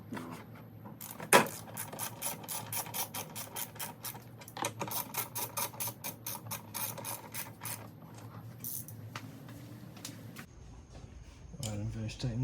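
Ratchet tightening bolts on the engine of a 2017 BMW 330i F30 during a spark plug job, quick rapid clicking close by, fairly quiet, with someone speaking at times.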